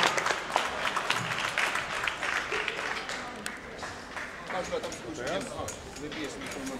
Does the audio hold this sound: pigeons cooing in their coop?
no